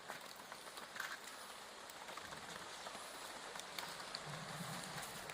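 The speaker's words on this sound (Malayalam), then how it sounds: "നല്ല മഴയാണേ" Steady heavy rain patters on a surface at a campsite, a dense continuous hiss with no talking.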